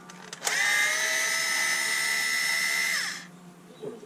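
A Bosch power drill whirs steadily for about two and a half seconds while backing screws out of a lantern circuit board, spinning up sharply, holding a high even whine, then winding down.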